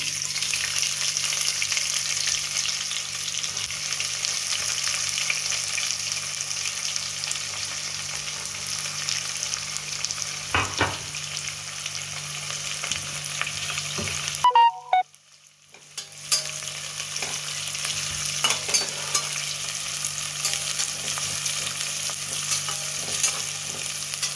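Curry leaves and chopped onion frying in hot oil for veg pulao, a steady close sizzle with occasional stirring scrapes and a brief drop-off in the middle before the frying resumes.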